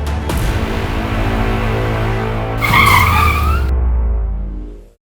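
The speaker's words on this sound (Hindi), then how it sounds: "सर, गाड़ी क्यों रोक दी?" A car skids to a stop: a loud, sustained roar of tyres with a screech rising near the end, then abrupt silence once the vehicle halts.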